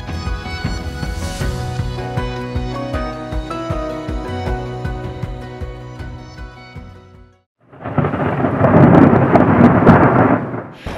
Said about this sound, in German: Es blitzt, es donnert.